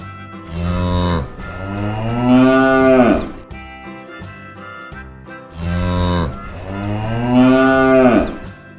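Two long, deep cow moos, each rising and swelling before trailing off, sound close by with a short pause between them.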